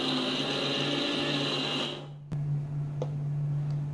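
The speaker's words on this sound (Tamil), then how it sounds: "இன்னும் நல்லா அரைச்சிங்கன்னா எண்ணெய் விட்ட மாதிரி வரும் இன்னும் கொஞ்சம் அரைச்சிக்கலாம்" A kitchen mixer grinder churns roasted peanuts into peanut butter with a loud, steady whirring drone for about two seconds, then cuts off, leaving only a low hum and a couple of faint clicks.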